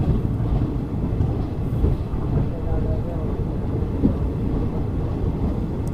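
The Ranikhet Express passenger train rumbles along the rails, a steady low, dense roll with faint rhythmic clatter from inside a carriage, continuous and moderately loud throughout.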